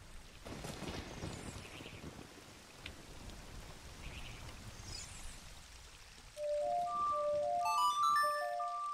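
Steady rain hisses evenly in Ocarina of Time, a dense wash of falling drops that carries on throughout, joined near the end by a run of clear, chiming melodic tones.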